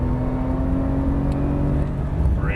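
A Porsche 911 Turbo on a race track gives a continuous, near engine roar as it accelerates, with a rising whine toward the end.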